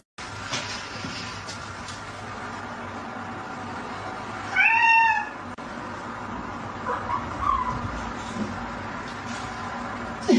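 A single short, clear cat meow rings out midway over a steady low background hum, loud and close, followed by quieter scattered noises.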